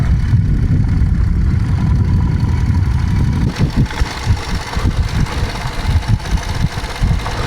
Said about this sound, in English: Second gear, just throttle off, shut the throttle, just let it gently roll down.